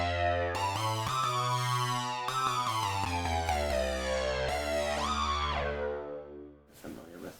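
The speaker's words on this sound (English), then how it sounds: "is an effect called Char Laser Harp." Bright synthesizer chords from a laser harp effect ring out in sustained, stepping tones, layered and shimmering with a beamy sweep, ending in a brief noisy burst.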